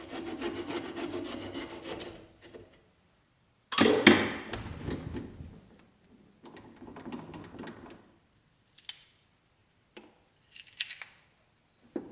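Wooden part being cut on a lathe, a raspy scraping cut running for about two seconds, then a loud burst near four seconds followed by intermittent shorter cutting strokes and pauses, close up with no talk.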